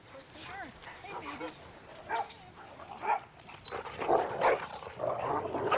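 Several dogs playing in a ravine, yipping, whimpering and barking in short excited bursts at moderate distance, growing busier toward the end, with a person talking faintly in the background.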